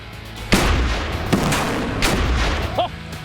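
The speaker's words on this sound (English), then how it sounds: "explosions on high speed with water look really cool" Explosions underwater in the video game Minecraft, played at high speed: a series of loud booming blasts, roughly four close together, each followed by a churning rumble.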